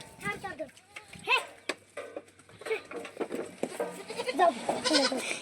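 Goats bleating close by in a yard at watering time, several overlapping wavering cries mixed with shuffling and scattered talk from people nearby.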